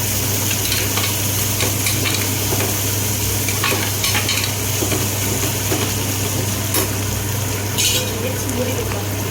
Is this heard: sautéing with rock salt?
yes